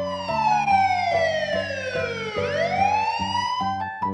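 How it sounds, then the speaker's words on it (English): A loud police car siren sweeps down in pitch, then climbs back up, over steady pulsing tones underneath; close and continuous, with no talking. "Police cruiser."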